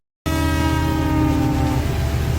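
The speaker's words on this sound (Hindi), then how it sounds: "दूर गूंजता ट्रेन का हॉर्न जो आज भी मुझे अपनी ओर खींचता है।" A train horn starts abruptly after a short silence and holds a steady, sustained chord, loud and unbroken for about two seconds.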